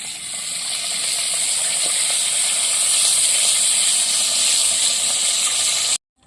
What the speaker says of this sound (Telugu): ఇవి తీసుకొని మిగతా కూడా అన్నీ అలానే ఫ్రై చేసుకుందాము